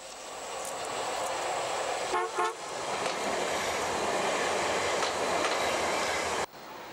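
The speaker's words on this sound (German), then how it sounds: "Hier der Eröffnungszug im alten Grenzbereich." A Berlin S-Bahn opening train of 1992 passes through the old border area between Frohnau and Hohenneuendorf, a steady close rumble of wheels and cars that drops away abruptly near the end.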